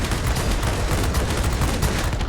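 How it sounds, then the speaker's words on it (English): Continuous aircraft cannon fire from a Me 109 TL in the World of Warplanes game, a dense, loud, unbroken roar of rapid shots with no pauses. "The guns do hit pretty darn hard."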